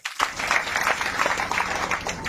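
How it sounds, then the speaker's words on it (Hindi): Loud, sustained applause from an audience, dense clapping that starts abruptly and carries on steadily without voices. "एक बार जोरदार तालियां"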